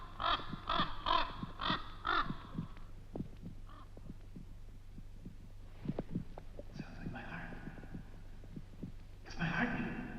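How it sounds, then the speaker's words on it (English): Heartbeat effect in a giallo thriller film: soft, evenly spaced low thumps throbbing under a quiet hum, with harsh crow-like caws breaking in at the start and again later. "My heart is beating again. Don't you hear it?"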